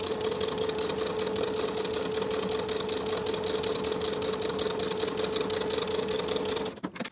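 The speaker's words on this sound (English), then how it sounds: "you can also choose to top stitch that seam allowance down from top to bottom" A sewing machine top stitches a seam allowance on a tee, a fast, even mechanical whir running steadily and close for several seconds before stopping abruptly at the end.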